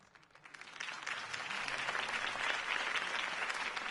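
Applause from a crowd in the Batman Telltale video game swells up quickly and holds steady, a dense wash of clapping that sounds slightly distant and processed.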